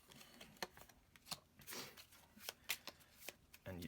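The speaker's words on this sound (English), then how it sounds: "so I'm shuffling after every door found" Quiet, close riffle-and-rustle bursts of cards being shuffled by hand during a solo game of the Onirim card game, with irregular soft taps between the shuffles.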